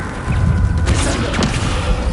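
A heavy booming, rumbling spell effect from the Descendo spell in a video game, a sustained low crash with a mechanical rush, loud and close.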